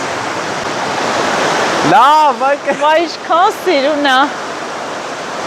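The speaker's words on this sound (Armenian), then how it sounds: "վայքի ջրվեժը" Vayk waterfall in Armenia rushes as a steady, loud broadband roar through the whole clip, while someone speaks excitedly over it partway through.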